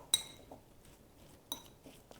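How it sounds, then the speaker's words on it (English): Stuffed mushroom filling with dried oregano is mixed in a bowl, heard as a couple of sharp metallic clinks of a utensil against the bowl over soft quiet scraping. "All you do is just mix these up until everything is nice and combined."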